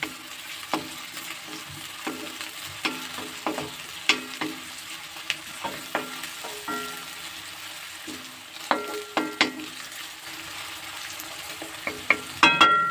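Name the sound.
onions frying in oil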